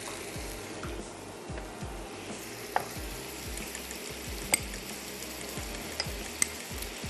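Yogurt being whisked well in a bowl while making prawn mirch masala, a steady run of soft rhythmic stirring strokes with a few light clinks against the bowl.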